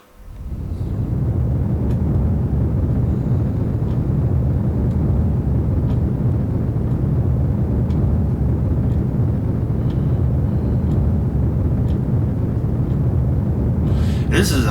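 A Delta IV Heavy rocket engine burn in Kerbal Space Program, a steady, loud, low roar that swells in at the start and holds unbroken for about fifteen seconds.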